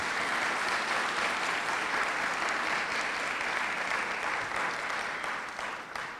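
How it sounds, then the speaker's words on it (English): Sustained audience applause at a community gathering in Waterbury, a dense wash of many hands clapping steadily at full strength before easing slightly near the end, with no voices over it. "Let's give them a round of applause for everything they do."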